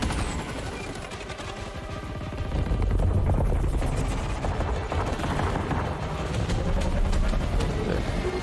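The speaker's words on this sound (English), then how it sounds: "Of course, the helicopter combat." Helicopter combat in a Battlefield 2042 game trailer set in Dubai: rotor thrum under rapid machine-gun bursts and heavy blasts, loud and continuous, building in intensity partway through.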